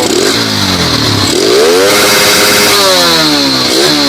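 A Kawasaki KSR motorcycle engine fitted with an aftermarket API ECU box revs hard and close, rising and falling in pitch through several sweeping throttle blips over a loud, rough running sound.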